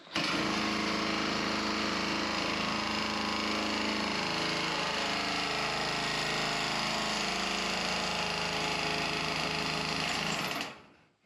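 Nibbler tool cutting sheet metal roofing for an off-grid cabin, a steady, loud, continuous buzzing chatter that runs unbroken for about ten seconds before stopping abruptly, with no talking over it.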